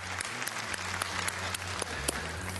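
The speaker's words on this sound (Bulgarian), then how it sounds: "Хайде да посрещнем с аплодисменти действащия шампион в Последния печели, Иван Стойчев!" Studio audience of a Bulgarian TV quiz show applauds the returning champion, continuous even clapping over a low musical bed.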